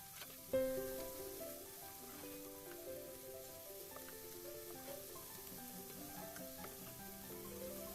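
Kashmiri chili powder and tadka masala fry in oil in a karahi with a soft, low sizzle, while faint tonal music plays throughout and a light knock sounds early on.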